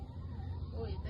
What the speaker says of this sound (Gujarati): આ તો આ ઓલા હે ના એમ્બ્યુલન્સ છે વનતારા વાળાની.